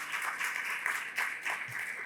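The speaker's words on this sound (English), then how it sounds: "give Dr. Jones, Dr. Volman, Dr. Messett, and Dr. Elbulak a round of applause" An audience at a college kickoff event applauds, a brief, moderately distant wash of many hands clapping that holds steady throughout.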